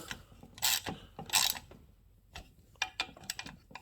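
Someone tightens oil pump bolts on a Farmertec 288XP chainsaw kit with a ratchet, giving two bursts of quick clicking, a pause, then a cluster of sharper clicks and mechanical ticks at close range.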